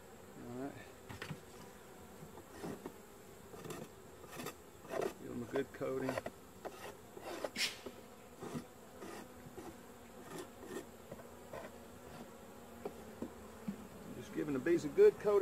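Faint, steady buzzing of many honeybees close by in an open hive while they are dusted with sugar to treat varroa mites, with occasional louder passes of individual bees droning near.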